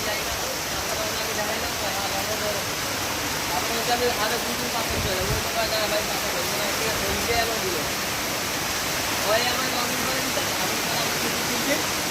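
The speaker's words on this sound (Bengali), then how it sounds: "মারাত্মক বৃষ্টি হচ্ছে" Heavy rain pours on the bank of the Ganges as a dense, steady wash of hiss with no breaks. A voice speaks briefly beneath the constant downpour.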